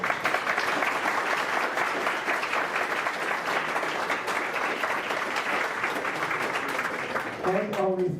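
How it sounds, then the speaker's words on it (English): Sustained applause from an audience at a JavaScript tech meetup talk, a dense steady clatter of clapping at even loudness that tapers slightly near the end as a voice briefly begins speaking. "Great applause."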